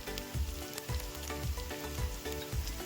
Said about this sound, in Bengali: শুকনো মশলাগুলো হালকা করে একটু ভেজে নিয়েছি